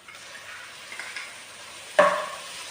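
Ginger and garlic dropped into hot oil for samosa filling: a soft stir and low sizzle, then a sharp louder burst of frying near the end that fades quickly.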